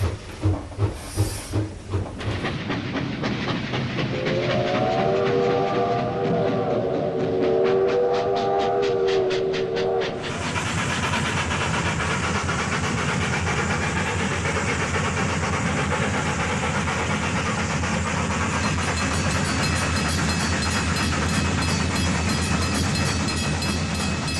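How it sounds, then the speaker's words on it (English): A steam locomotive on New Zealand's main trunk line in 1966 puffs in rhythmic chuffs, then a whistle sounds for several seconds before a loud, steady rush of steam and rolling wheels takes over. "the sound of a steam locomotive"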